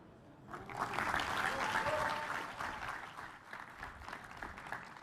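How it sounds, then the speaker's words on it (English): Audience applause at a Solana Accelerate USA tech event, a sustained wash of clapping from a large crowd that swells after a quiet start, peaks, then tapers slightly while continuing steadily to the end. "Another round of applause for Buffalo."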